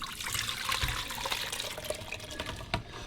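Marinade poured from one pot into another in a home kitchen, a steady liquid splashing and trickling sound running close by for about three seconds with a brief louder splash near the end.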